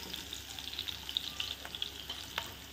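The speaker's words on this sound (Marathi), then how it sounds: "कांदासुद्धा असा छान परतू दिला" Cubed onion sautés in a pan for restaurant-style pasta, giving a steady, fairly quiet sizzle with small crackling pops and a few soft stirring scrapes, and no voices.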